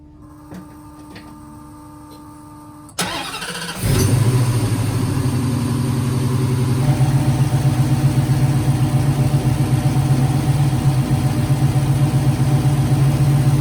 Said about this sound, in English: let's get some coolant in here and get this thing fired up